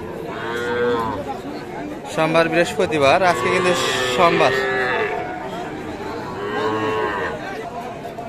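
Young bulls and heifers at the Raniganj cattle market in Ghoraghat, Dinajpur let out several drawn-out moos, some overlapping, amid the murmur of a crowd, while someone talks nearby.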